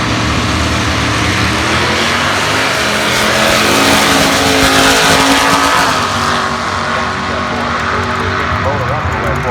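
A supercharged 1971 Chevrolet Nova drag race car revs hard and launches down the strip at a night drag racing event, its loud engine roar sustained and dense throughout, with announcer-style talk running over it.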